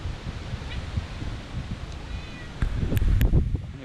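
Archie, a pet cat, meows faintly amid wind buffeting and rustling outdoors beside a chopped and channeled 1971 Mack R Model tractor, with a few brief high calls toward the end.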